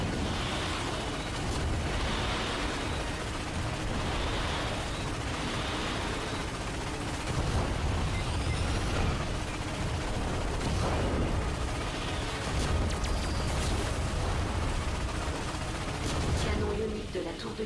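A watchtower ion cannon fires in the Ratchet & Clank PS4 game, heavy sustained blasts and rumbling explosions filling a dense, loud battle mix with repeated bursts throughout.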